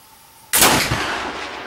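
A single loud shot from a Kibler Woodsrunner black powder muzzleloader rifle loaded with Goex powder, a sharp close blast followed by a long rolling boom that fades slowly.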